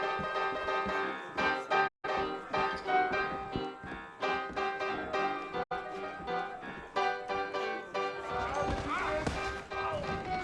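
Horse hooves clip-clop steadily in the Red Dead Redemption video game, a rhythmic trot under game music and ambience for about ten seconds, with a voice talking.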